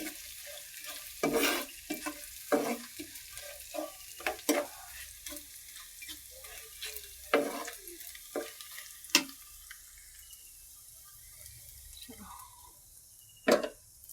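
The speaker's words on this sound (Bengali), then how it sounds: "এখানে স্ল্যাশ একটা দিয়া পেঁয়াজ রসুন ভেজে নিচ্ছি।" Onion and garlic fry in a pan with a crisp sizzle, punctuated by repeated bursts of spatula scraping and stirring, while a person talks nearby.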